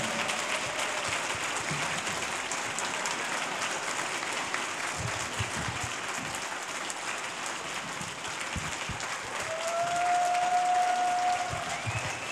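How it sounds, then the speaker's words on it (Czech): Talk show studio audience clapping for a guest, a dense steady wave of applause filling the whole stretch at even loudness, with a brief tone near the end. "velký potlesk"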